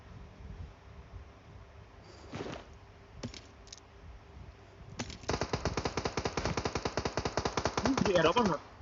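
Rapid bursts of automatic gunfire in the video game PUBG Mobile build to a fast, steady rattle, with a few isolated shots and faint speech before it.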